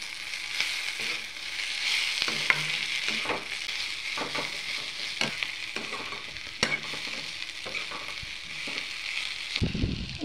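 Dried shrimp and long-cut potato strips being stirred in a frying pan with cumin powder, a steady sizzle under repeated scraping strokes of the utensil, close and continuous with no talking.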